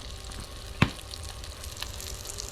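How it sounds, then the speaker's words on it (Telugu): Chicken and fish pieces frying in a pan at an outdoor cookout in a mango grove, giving a steady low sizzle throughout with one sharp pop partway through, no talking. "చికెన్ ఫిషెస్ అయితే ఫ్రై అవుతున్నాయి చూడండి ప్యాన్లో"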